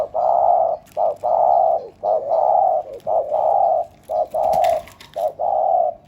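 A dove coos in a steady series of about seven soft, hollow calls, each a short pause apart, close and clear with no voices.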